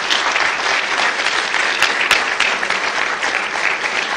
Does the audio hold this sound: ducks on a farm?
no